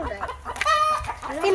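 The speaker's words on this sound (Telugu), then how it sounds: "కోళ్ళు కొట్టుకుంటున్నాయిరా" Chickens fighting on a farm, with close, loud clucking and squawking bursts over steady background noise and a low rumble of activity.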